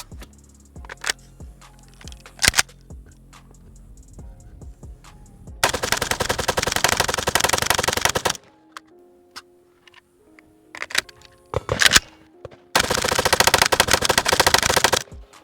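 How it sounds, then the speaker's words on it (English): An unsuppressed Stenzel SAK-21 AK rifle fires full auto outdoors, with long loud bursts of rapid shots separated by quieter gaps filled with clicks, metallic handling sounds and scattered single shots, no speech. "I had to retune my gas for unsuppressed shooting, so we should have full function."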